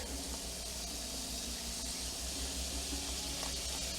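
Onions sizzle in a hot pan that still holds the browned bits from cooked ground beef patties, a steady, close, unbroken hiss with faint crackle running the whole time and no talking.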